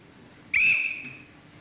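A single sharp whistle blast rings out loud and clear, trailing off after about half a second, set in a wartime British sitcom scene with a quiet room background.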